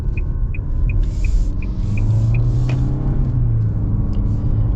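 A 2025 Nissan Altima AWD pulls hard under acceleration, its engine a steady low rumble with a rising drone heard from inside the cabin alongside a faint repeating chime.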